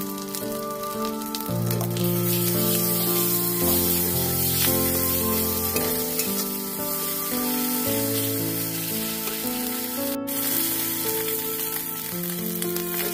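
Oil sizzles and spatters steadily as garlic and ginger paste fry in a pan, with soft background music playing throughout.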